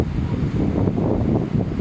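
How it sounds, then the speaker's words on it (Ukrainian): Steady wind-blown rush of sea surf at Golden Beach in Odesa, a continuous low roar of waves rolling in nearby without clear breaks. "ну тут краса і волни, звук моря"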